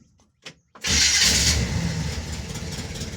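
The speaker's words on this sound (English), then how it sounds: "Cold start. Here we go." A 1971 Chevy K10 truck engine is cold-started: a couple of short clicks and a cranking burst, then it roars to life with a loud rev that settles into a rough, rumbling idle close by.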